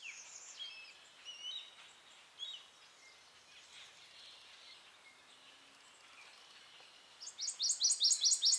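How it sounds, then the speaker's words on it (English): Many red-winged blackbirds, common grackles and boat-tailed grackles chirp and call steadily at a distance in a Florida park, then a louder burst of rapid, harsh, repeated calls bursts in close by near the end. "behind me, you can hear tons of red-winged blackbirds, common grackles, and boat-tailed grackles"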